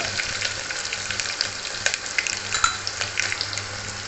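Curry leaves, chopped garlic and asafoetida sizzle steadily in hot oil in a pan, a bright crackling fry with scattered pops and light stirring clinks, close and continuous.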